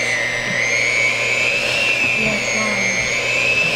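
An electric mixer set to level 2 blends mashed bananas into banana bread batter, a steady, close whirring motor whine that runs unbroken throughout.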